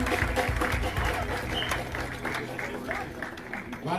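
A church congregation at the dedication of a new hall in Karlsruhe claps in a scattered, uneven round, with talk and crowd murmur running over it.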